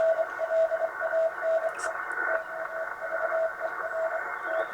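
Morse code CW tones on the CW segment of an amateur radio band, a steady stream of short and long beeps keyed in rhythm over a constant hiss of band noise, fairly loud and with no talking.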